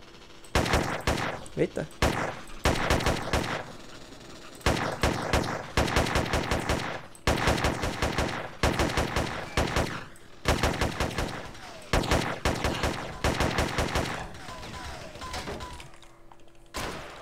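Bursts of rapid gunfire from enemy snipers in the survival game Rust, loud clustered volleys repeating across the stretch with short pauses between them, and a player briefly speaking.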